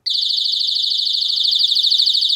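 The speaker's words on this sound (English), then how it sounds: "Now we're going to move the trigger so you can hear the alarm" A Mosaic MH306V home alarm blares a loud, continuous high-pitched electronic pulse, close and steady, with some faint handling noise underneath.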